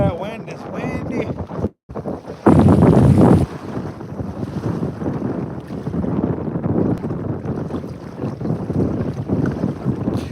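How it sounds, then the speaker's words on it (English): Strong wind rumbles across the microphone outdoors during a snow storm while fishing, a continuous low roar with a harsher, louder gust partway through and some muffled background voice. "Boy, that wind is windy."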